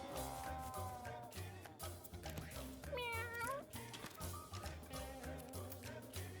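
A cartoon cat meows in the video game Mewgenics, several wavering cries over a steady backing music track with a beat, soft and mixed into the game soundtrack.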